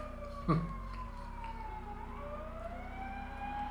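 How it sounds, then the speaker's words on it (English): A faint ambulance siren wails in the distance, its pitch sliding down and then rising, heard over a low steady rumble. "Another ambulance going by."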